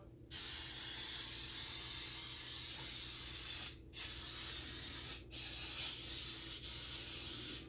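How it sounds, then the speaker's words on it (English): Cooking spray hissing steadily onto a muffin pan in several long bursts broken by short pauses, close and fairly quiet. "we're gonna spray our pan, our muffin pan as well"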